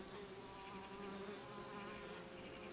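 Bees buzzing steadily as they drive a beetle away from their nest, a dense continuous drone of several insects with faint wingbeat flutter, even and fairly quiet throughout without voices.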